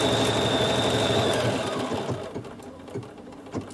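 A Bernina 7 series embroidery machine stitches a design, its fast rhythmic needle hum loud and steady, then easing and slowing into a few separate knocks as it moves across to the next section.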